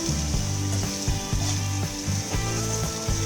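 Spices seasoned with a little salt and a pinch of sugar fry steadily in a pan over a slow to medium flame, a soft continuous sizzle running beneath background music.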